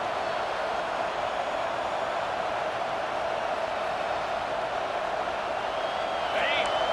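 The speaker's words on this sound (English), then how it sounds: "this big crowd doing everything possible to inspire this defense down here near the goal line" Big stadium crowd roaring steadily through a college football game near the goal line, a dense, loud wash of cheering with no breaks.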